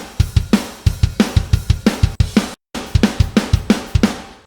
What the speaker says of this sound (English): for bass, I'm just using Native Instruments Guitar Rig, Bass Pro with a rat in front of it